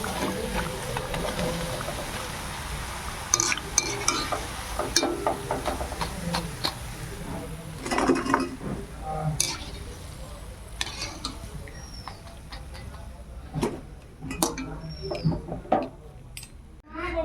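Food fries in a pan in a village kitchen, soft sizzling broken by scraping stirs and clinks of a utensil, uneven and close, with some voice briefly present.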